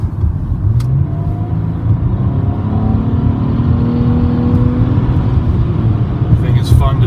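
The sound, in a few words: Nissan Maxima SV 3.5 liter VQ engine car driving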